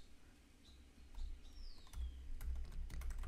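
Fingers typing on a computer keyboard, a few soft, quick key clicks bunched toward the end, fairly quiet, with a faint bird chirp in the background and no talking.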